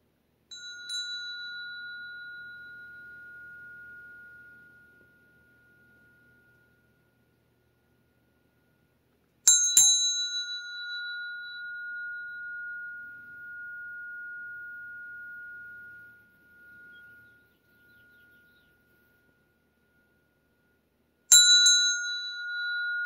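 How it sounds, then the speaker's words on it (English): A bell is rung three times, each strike a bright clear ring that hangs and slowly fades, with long quiet gaps between strikes and nothing else sounding. "It's interesting when I do my bell"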